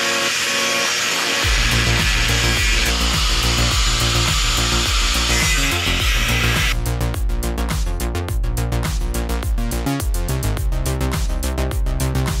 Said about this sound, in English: I'm just going to cut it in half and then grind it out and then weld it back together